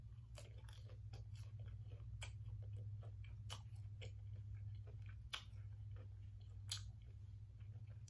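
Someone bites and crunches into McDonald's spicy chicken nuggets, somewhat hard ones, eaten without sauce. The crisp, close crunches come repeatedly and irregularly over a steady low hum, with no talking.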